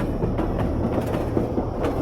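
Train running under a horror story: a steady, rumbling rail roll with faint rhythmic clickety-clack from the wheels, continuous and even throughout with no voices.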